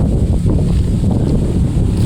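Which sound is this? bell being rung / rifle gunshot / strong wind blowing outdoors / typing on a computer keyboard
strong wind blowing outdoors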